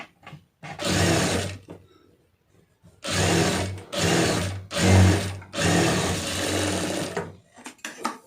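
Sewing machine stitching a plain blouse, running in several bursts of steady rapid whirring separated by short pauses, close and clear with no talking.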